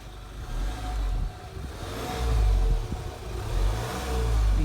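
A Range Rover Velar diesel engine revs up in neutral, heard near the exhaust, with the rumble swelling and easing in several waves over a low, steady idle.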